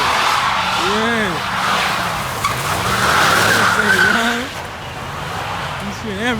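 Tires squeal and skid loudly as a car spins donuts at a New York street car meet, the wavering shriek running almost continuously under engine roar, with people talking nearby.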